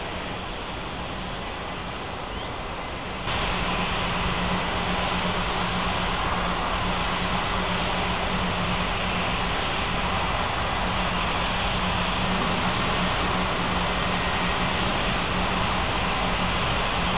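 Jet airliner engines run during pushback at a regional airport, a loud, continuous roar and whine that rises sharply a few seconds in and then holds steady with no voices.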